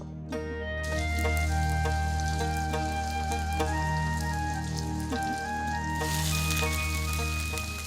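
Tengra fish frying in hot oil, with a crackling, spattering sizzle running steadily under sustained tonal background music.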